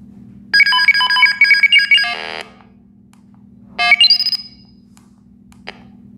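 Sharp electronic beeping from a refrigerant leak detector in two bursts: a rapid chirping run, a pause, then a shorter rising series, over a steady low electrical hum.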